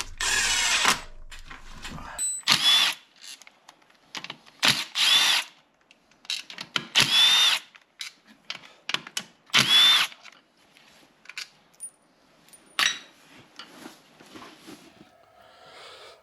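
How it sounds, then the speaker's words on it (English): A Milwaukee hex impact driver on its lightest torque setting fires in several short, loud bursts separated by pauses, each burst a sharp rattling hammer close to the microphone. "So here's the impact driver here."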